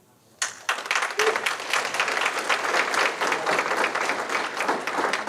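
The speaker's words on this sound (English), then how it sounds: "I can hear you clapping like that" An audience at a Greenville Chamber of Commerce Season of Giving event breaks into clapping after a short quiet start, then keeps up dense, steady applause throughout.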